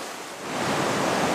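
Sea waves break against a rocky, eroding coast in a steady, close rushing wash that swells louder partway through, with no voices.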